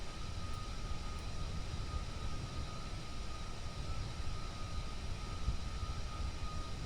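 Game aircraft engine in Kerbal Space Program droning steadily while the plane taxis, a continuous low rumble with a faint high whine, moderately quiet and unbroken throughout, no talking.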